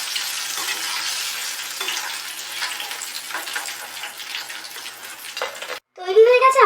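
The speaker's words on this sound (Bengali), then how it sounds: "পকোড়াগুলো ভালো করে ভেজে নিয়ে এবার আমি তুলে দিলাম।" Paneer pakoras fry in hot oil with a steady, close sizzle that holds for several seconds, then cuts off abruptly before a brief burst of louder bubbling and crackle.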